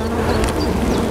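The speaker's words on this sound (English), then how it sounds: "Okay, there's a few bees on the bottom." Honey bees droning steadily around an open hive box fitted with red plastic foundation frames, a close, continuous buzz with no voices.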